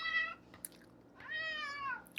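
A hungry house cat meows for food, two clear drawn-out meows a second apart, close and fairly quiet with faint clicks between them and no talking.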